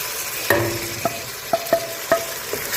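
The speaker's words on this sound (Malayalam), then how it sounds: "ഒരു മീഡിയം സൈസ് തക്കാളി ഇതാ ഇതിലേക്ക് ഇട്ട് കൊടുക്കുകയാണ്" Chopped tomatoes and onions cooking in a pan on a small stove in a room, as part of a homestyle beef curry, stirred in a few distinct scraping strokes over a low, steady sizzle, with no talk.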